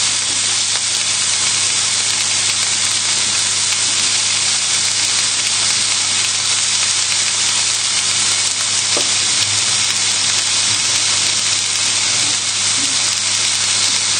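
Pork tenderloin sears in a hot pan during a roast pork cook, giving a loud, steady sizzle and crackle that holds without a break, with occasional sharper spits and a low hum underneath.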